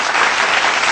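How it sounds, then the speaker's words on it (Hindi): A studio audience on a Hindi TV quiz segment gives a short, dense burst of applause, loud and continuous with no voices over it. "तालियां बजाइए"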